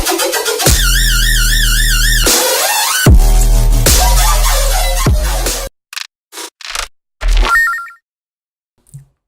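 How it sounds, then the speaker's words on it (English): Hybrid trap 404-style screech lead built from Serum synth patches, a loud, harsh, wobbling synth line over a deep bass for about six seconds, followed by brief stuttering bursts and gaps of silence. "today we're gonna learn how to make the 404 lead"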